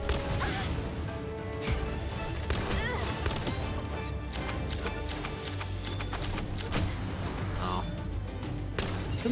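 Air cannon shots fired in the video game Palworld, sharp bursts amid a busy mix of game effects and music, with impacts and crashes scattered throughout.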